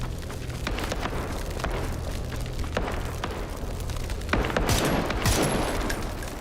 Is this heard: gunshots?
yes